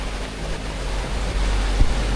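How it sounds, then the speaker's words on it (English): A fast-flowing river in Nan province, northern Thailand, rushes in a broad continuous roar heard from nearby, steady and loud with a low rumbling undertone. "It's going for it, this river."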